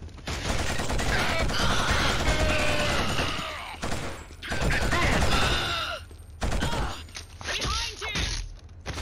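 Rapid gunfire in the shooter game Killzone, with bursts of automatic shots in loud clusters separated by brief lulls, layered over shouted voices and battle noise.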